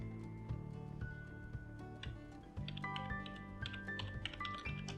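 Program code is typed on a computer keyboard, giving a steady run of close, light key clicks in an irregular rhythm over a faint background hum, with no speech.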